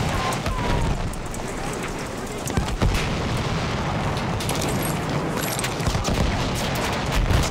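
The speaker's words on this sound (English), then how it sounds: "Enemy machine gun!" Battlefield 1 combat with enemy machine gun fire: dense, continuous rattling gunfire and blasts, loud and close, with a sharp burst near the middle and voices shouting faintly in the mix.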